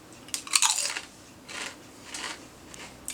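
Crunching and chewing of Asian-flavored Doritos chips, a loud burst of crisp bites up close followed by two softer bouts of munching, with no talking.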